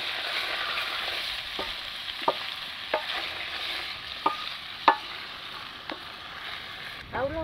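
Potatoes and green peas with salt are stirred in a frying pan over a soft continuous sizzle, with a series of sharp spoon scrapes and clinks against the pan at irregular intervals.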